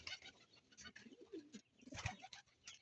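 Blue bar racing pigeons at a breeder's loft give soft, low cooing calls, faint and close, with a few short rolling coos and light rustling, no talk.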